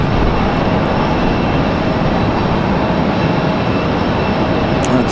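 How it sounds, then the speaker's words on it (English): An American Airlines A321 airliner taxis at Raleigh-Durham International Airport, its jet engines giving a continuous loud, even roar with no speech. "American A321 on the move."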